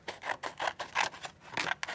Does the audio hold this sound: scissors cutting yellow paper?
yes